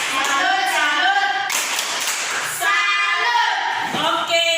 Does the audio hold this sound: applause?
yes